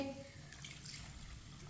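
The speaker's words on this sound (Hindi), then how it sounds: "अब इसमें पानी डाल लेंगे।" Water pouring into a cooking pot for pilau, a brief trickling splash that fades quickly under quiet kitchen background.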